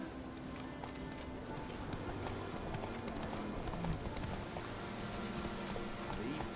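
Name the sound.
horse Roach galloping in video game Witcher 3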